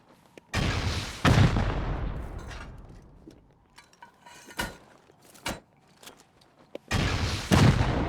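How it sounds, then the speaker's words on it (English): Rocket explosions during a raid in the game Rust, heavy booming blasts at the start and end with smaller impacts and debris clatter between, loud and close with no talk. "Really being really precise with this rocket raid"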